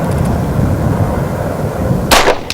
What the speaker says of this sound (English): We put on the ear protection and get ready to fire the first shot.